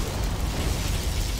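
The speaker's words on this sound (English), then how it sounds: "Particle cannon activated." A particle cannon blast in Command & Conquer Generals: Zero Hour roars as a loud, dense, sustained burst of rumbling noise lasting over a second.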